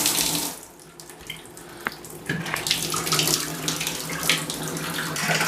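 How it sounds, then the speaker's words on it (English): Tap water runs steadily into a sink, a continuous splashing stream with a brief dip near the start, close and fairly loud. "with my water up and running now"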